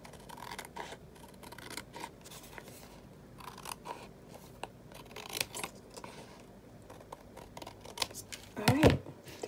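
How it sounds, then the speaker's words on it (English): Scissors cutting excess cardboard for a cardboard journal, a series of crunchy snips and scraping cuts in irregular bursts, close up, ending with a louder rustle. "then we just cut off the excess, and hopefully I can cut it straight."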